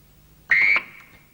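A single short electronic quiz-show buzzer sounds, bright and loud for about a quarter second, then fades quickly into quiet.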